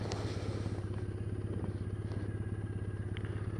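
A 2015 Triumph Bonneville T214 limited edition motorcycle engine idles steadily nearby, a loud low throbbing pulse with light mechanical clatter throughout.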